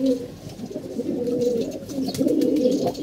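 A moulting pet pigeon cooing close by, soft throaty rolling coos repeating in short phrases over a quiet room.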